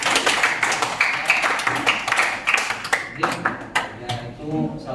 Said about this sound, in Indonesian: Tepuk tangan untuk Desi